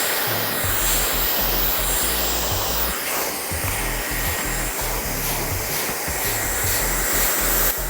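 A blow dryer runs during a short barbered haircut while a brush works through the hair, giving a loud, steady whooshing whir that continues unbroken with no talking.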